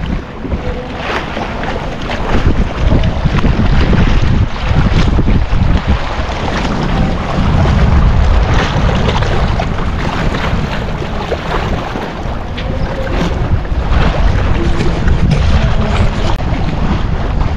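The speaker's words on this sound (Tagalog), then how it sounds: "Sarap ng hangin dito." Strong wind buffets the microphone while riding a bicycle on the San Nicolas, Batangas trails, a loud, continuous roaring rush that swells and eases with no voices.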